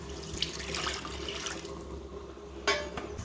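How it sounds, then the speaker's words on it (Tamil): Water poured into a pot of Kerala-style tamarind rasam while cooking: a splashing, trickling pour in a kitchen, fairly close, with a second brief splash toward the end. "தண்ணி கலந்துக்கோங்க."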